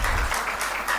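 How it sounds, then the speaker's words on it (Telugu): A congregation at a family prayer meeting claps hands in praise of God, a loud, close burst of rapid, many-handed applause lasting about a second. "చప్పట్లు కొట్టి దేవుని స్తుతిద్దాం."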